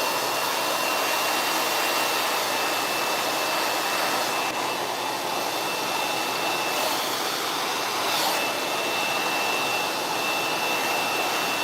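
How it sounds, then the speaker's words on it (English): A hair dryer blasts steadily and loudly at close range while hair is blow dried section by section using a tension method with a Denman brush, a continuous whooshing roar with slight shifts as it moves. "blow dry the hair."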